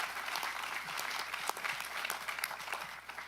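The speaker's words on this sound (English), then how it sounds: "Let's give them a round of applause." Steady applause from an audience at a county supervisors' board meeting, many hands clapping in a dense wash that holds throughout at moderate distance.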